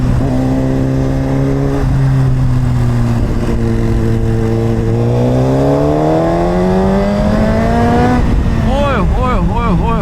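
A Suzuki GSX-R1000RR with an Akrapovic exhaust rides close by, its engine note holding steady, climbing as it revs higher, then snapping through quick rapid revs near the end.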